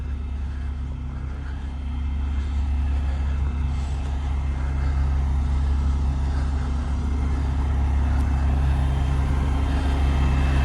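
A truck engine idles in snowy weather, unable to shut off while regenerating. It gives a loud, steady low drone with a constant hum that continues unbroken for about ten seconds with no talking.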